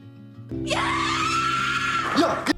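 A woman screams in a drama scene, one long loud sustained shriek that rises at the end, with a faint musical background.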